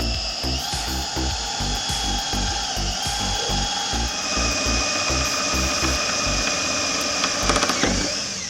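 A power drill with a 1/4 inch bit bores out a hole while installing a bathroom sink cabinet, whirring steadily and loudly throughout with a rhythmic low chatter as the bit cuts.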